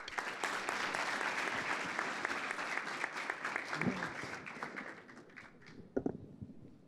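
Audience applause for a speaker introduced at an investment-management panel event, sustained even clapping from a sizable crowd that thins and trails off near the end.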